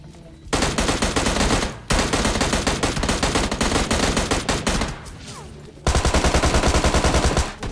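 Rapid automatic gunfire in the PUBG Lite mobile battle-royale game, loud dense bursts of shots with short breaks between volleys and a final steady rattling burst.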